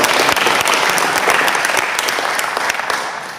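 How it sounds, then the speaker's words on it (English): A roomful of club members gives sustained, loud applause at a meeting, a thick even wash of clapping that fades slightly near the end. "let's give Amanda and KK a big round of applause"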